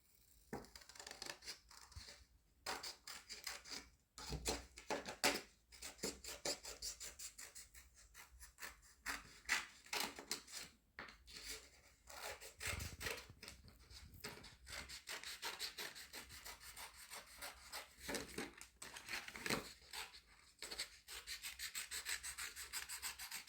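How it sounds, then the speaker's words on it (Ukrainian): Scissors snipping and rubbing through paper while a glove shape is cut out for a children's craft and appliqué lesson, a steady run of close, crisp cutting strokes with short pauses and no voices. "А тепер ножицями вирізаємо."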